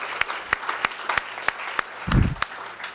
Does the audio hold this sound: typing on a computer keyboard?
no